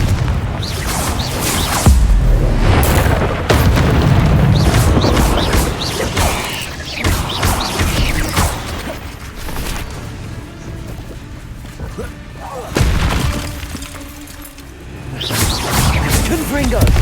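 Repeated Confringo fire-spell blasts in Hogwarts Legacy, loud booming impacts and crashes recurring across the stretch, with whooshes and rumbling debris in between; a voice speaks at points.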